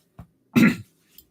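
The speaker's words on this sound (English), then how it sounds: "this is me in the morning, coughing and like some old man" A man gives a short, rough morning cough, one faint hack followed by a louder throaty burst and a tiny trailing clear of the throat, close to the microphone in an otherwise silent room.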